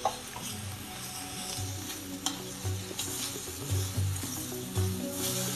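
Mushroom sauce made with gourd seeds sizzles and fries steadily in a pan, with a constant hiss and occasional soft scrapes of stirring on top.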